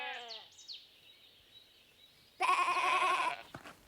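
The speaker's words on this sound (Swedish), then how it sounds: "10 får och lamm." Sheep and lambs on a farm at Katthult bleat: a few short wavering calls at first, then after a quiet gap one loud, quavering bleat close by.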